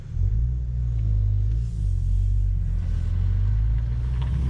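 A Cadillac CT4-V Blackwing climbs a mountain road, its engine a steady, heavy low rumble that stays even and loud inside the cabin throughout.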